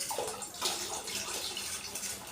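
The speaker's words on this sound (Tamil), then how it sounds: "தண்ணி இன்னும் கொஞ்சம் சேர்த்துக்கலாம்." Water is poured into a pot of rice halwa cooking with jaggery syrup, a soft close splashing trickle that continues steadily for a couple of seconds, with no talking.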